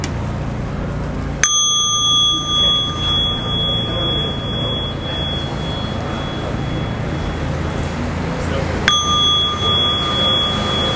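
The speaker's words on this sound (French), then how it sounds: "Et moi j'ai choisi ma petite cloche pour respirer." A small bell used for breathing practice is struck twice, several seconds apart, each strike ringing out clearly and then holding a long, pure, slowly fading tone over a quiet background hiss.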